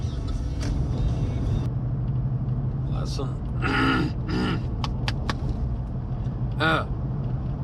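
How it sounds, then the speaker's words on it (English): A vehicle drives along mountain roads in Tennessee, its engine and road rumble steady and close throughout, with a few brief voices and grunts breaking in over the drone. "All right, time to drive."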